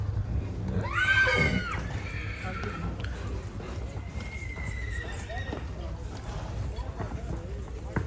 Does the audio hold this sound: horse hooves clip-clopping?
yes